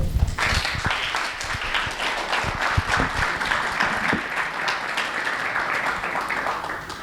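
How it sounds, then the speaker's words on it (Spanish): An audience at an agricultural water-efficiency talk gives a speaker a warm round of applause, steady close clapping with a few sharper individual claps, continuing throughout. "agradecemos a Rafael Navile con un fuerte aplauso"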